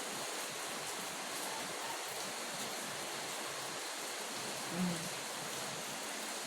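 Steady rain hisses evenly throughout, a broad wash of falling water with no pauses and no voices.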